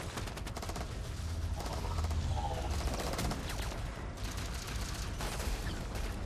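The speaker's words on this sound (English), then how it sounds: "I'm pretty sure they made the shotgun automatic in this one" Automatic shotgun blasting in a Halo game, a rapid run of loud, punchy shots in bursts amid other gunfire and battle noise, with no talk.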